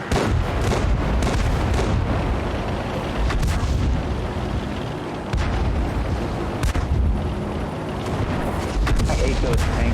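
Heavy booming tank cannon fire in a war video game, several deep loud blasts among scattered gunshots and rumbling battlefield noise, with a voice talking at times over the din.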